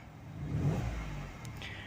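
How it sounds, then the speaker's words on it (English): A Peugeot 108 city car's small engine given a brief, gentle rev, heard from inside the quiet cabin, rising and settling within about a second. "So how about we just give it a tiny rev just to see what it's all about"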